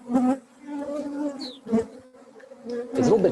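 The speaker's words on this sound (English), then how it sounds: "one actually gets used to even the mosquitoes" Mosquitoes buzzing in the Arctic summer wilderness, a close, whining insect drone that rises and fades in several passes, loud against a quiet background with no talk.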